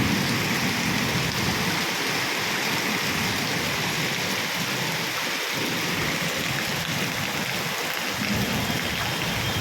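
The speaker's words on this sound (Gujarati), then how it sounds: "વરસાદ ગાજે છે જબરજસ્ત. આંધ્રાધાર વરસાદ પડે" Heavy monsoon downpour pelts roads and lanes in a steady, dense roar, with low thunder rumbling underneath, most noticeably around the middle and again near the end; no one speaks.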